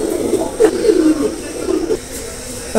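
Pigeons cooing nearby, low throaty rolling coos repeating in short phrases, fairly loud and close, with a brief thump near the end.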